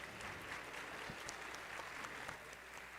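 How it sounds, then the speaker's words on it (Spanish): Steady, dense applause from an audience fills the room, thanking a panel of four specialists after a discussion on reading and writing in education; even, sustained clapping, fairly faint and distant. "Les damos un fuerte aplauso, por favor, otra vez para nuestras 4 especialistas"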